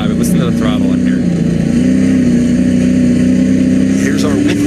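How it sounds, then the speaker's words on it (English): SRX race car at Sharon Speedway, its engine holding a loud steady throttle drone with a slight dip and recovery, while a commentator talks over it. "Listen to the throttle in here."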